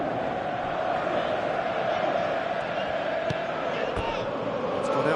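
A stadium crowd in a football video game on PS4 keeps up a dense, steady roar, with a few faint thuds and whoops rising out of the constant wash of sound.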